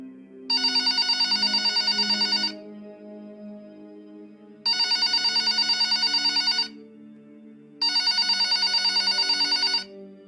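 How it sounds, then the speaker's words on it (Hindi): A hotel room telephone rings in three long electronic bursts, each about two seconds, separated by pauses, loud and close over a low background hum. "उसके तुरंत बाद ही वापस उसी फोन पे कॉल आया।"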